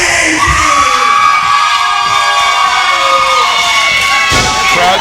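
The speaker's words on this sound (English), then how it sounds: "Crowd seems a bit mixed between these two. Fans on both sides of the ring." Crowd of wrestling fans cheering and shouting around the ring at a PCW Limelight match, a loud, dense roar sustained throughout with no one speaking.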